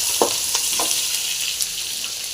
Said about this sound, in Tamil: இது எல்லாத்தையும் நல்லா வந்து ஓரளவுக்கு ஃப்ரை பண்ணலாம்